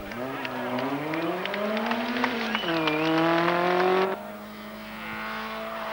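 A race car competing in the 1990 British Production Saloon Car Championship accelerates loudly, its engine note climbing through the gears before settling into a lower, steady drone.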